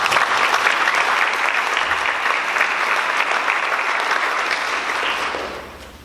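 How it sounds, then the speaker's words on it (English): An audience in a high school hall applauds students before a student leadership debate, a loud, dense round of clapping that holds steady for several seconds and then tapers off to quiet at the end. "Can I get another round of applause for these amazing students?"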